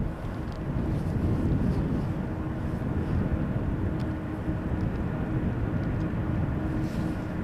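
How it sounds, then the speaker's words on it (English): A Boeing 777 taxiing toward the runway at Amsterdam Schiphol gives a steady, low jet engine rumble, distant and continuous, mixed with wind noise on the microphone. "triple that is now taxiing to the runway threshold"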